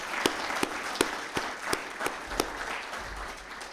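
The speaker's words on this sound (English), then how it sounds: "Can we get a quick round of applause for everybody that's..." An audience at a summit gives a quick round of applause for event sponsors, a moderate wash of many hands clapping with a few sharper claps standing out, fairly even and not very loud.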